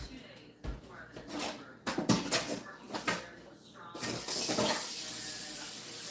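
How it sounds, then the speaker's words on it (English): Water runs from a kitchen tap as a bowl is rinsed, a steady splashing flow that swells louder toward the end, with a few clinks and a voice talking over the first half. "I'm gonna rinse this bowl"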